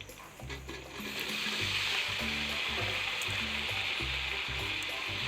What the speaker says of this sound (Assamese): এইখিনি এতিয়া অলপ টাইম এনেকৈ ভাজি থাকিম, 5-10 মিনিট আলুখিনি